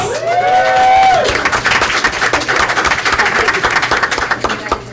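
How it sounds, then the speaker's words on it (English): A crowd at a school district board meeting claps and cheers, a dense patter of applause with scattered whoops, starting after a brief tonal sound and continuing steadily. "Let's give them a round of applause"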